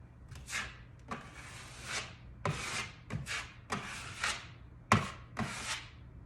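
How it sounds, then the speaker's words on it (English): A trowel smooths wet mud across a heavy Tuscan wall texture in repeated rough scraping strokes, each a short swishing rub separated by brief pauses, close and fairly quiet. "more mud is coming off my trowel as I go"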